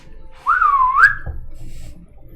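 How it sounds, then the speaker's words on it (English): A single rising, wavering whistle from a person lasts about a second, close and clear over a low background murmur. "Timon is going to try to whistle"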